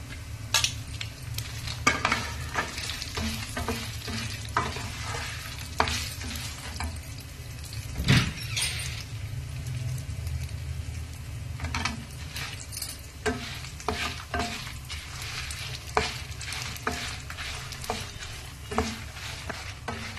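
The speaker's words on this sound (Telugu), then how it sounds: "మనం ప్యాన్లో వేసేద్దాం. కొద్దిగా వేగుతా ఉన్నాయి." Sesame seeds and peanuts frying in a pan, a soft sizzle under frequent scraping and rattling stirs of a spoon against the pan, with no talk.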